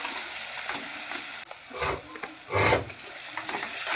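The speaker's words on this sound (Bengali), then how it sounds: "এটাকেও আমি ভালোভাবে কষিয়ে নেব।" Spices with turmeric and chili powder sauté in hot oil with a bay leaf, giving a steady close sizzle broken by stirring scrapes and two louder bursts of frying.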